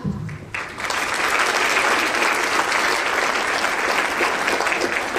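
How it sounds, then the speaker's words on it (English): At a CDIC symposium, the audience breaks into loud applause after a brief pause, clapping dense and sustained to the end. "So give yourselves a hand clap"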